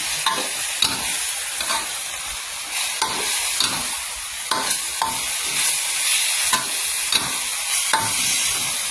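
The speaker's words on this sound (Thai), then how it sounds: "เสร็จแล้วใส่ใบมะกรูดลงไปค่ะ เพิ่มความหอม" Kaffir lime leaves stir-fried in a hot pan with chicken: loud sizzling with a rhythmic series of spatula scrapes and tosses, close up with no talking.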